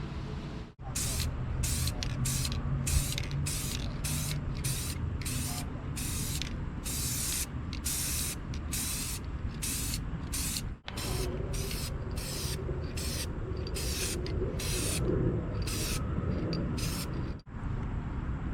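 A spray paint can lays a light first coat on plastic hubcaps in a long series of loud, hissing bursts, each a second or so long with brief gaps between, close to the listener.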